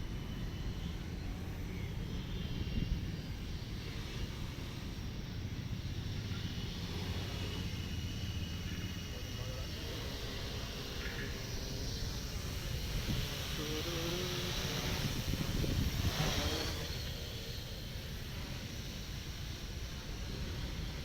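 A quadcopter drone running a KK2.1.5 flight controller hovers low, giving a steady broadband rotor whir that holds for about twenty seconds with slight swells, over faint background noise.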